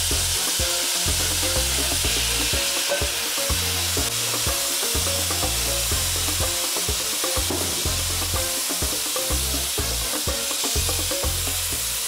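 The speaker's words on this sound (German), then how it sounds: "Dann lösche ich mit 1 Dose geschälte Tomaten ab." A pot of chili con carne deglazed with a can of peeled tomatoes and red wine, giving a loud, steady sizzle with stirring scrapes throughout, no voices.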